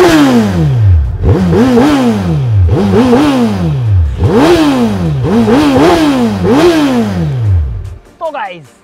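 Suzuki Hayabusa motorcycle engine revving hard five times in a row, each rev climbing sharply and falling back, loud and close, then settling into a sputter and brief clatter at the end.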